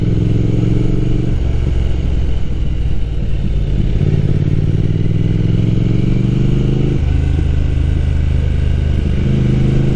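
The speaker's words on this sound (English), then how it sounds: "The exhaust pipes on this bike definitely isn't great. There are some burbles, but you are riding a 1200cc twin." A 1200cc twin motorcycle engine drones steadily and loudly from close by, its exhaust note shifting pitch in stepped changes as the bike is ridden, with a rough burbling texture throughout.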